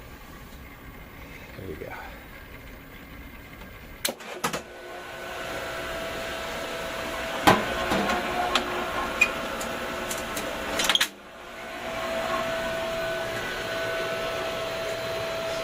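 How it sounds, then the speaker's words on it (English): A pool filter pump switched back on after cleaning, with a clunk, a rising hum settling into a steady motor drone, a few sharp clicks along the way, and someone briefly speaking. "when we turn the pump back on, you hear that baby power up"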